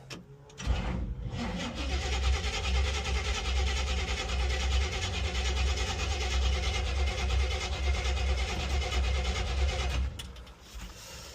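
A 1970 Chevy C10 truck engine cranks and sputters on carb cleaner, a loud steady rumbling churn running about nine seconds before cutting off.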